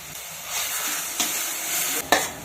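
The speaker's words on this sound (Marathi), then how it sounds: "आलं लसूण पेस्ट सुद्धा चांगली आपण परतून घेतलेली आहे." Ginger garlic paste sautéed in a pan over low heat for rajma, giving a close, continuous sizzle with a few sharp stirring scrapes, no voices.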